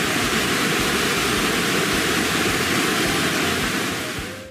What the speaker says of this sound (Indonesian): ada pula yang jatuh dengan keras, menciptakan suara bergemuruh yang bisa terdengar dari kejauhan